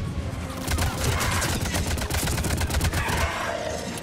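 Rapid bursts of automatic gunfire from a weapon in Mass Effect 3, a dense, continuous barrage with a steady rattling rhythm that runs nearly the whole time and fades slightly near the end.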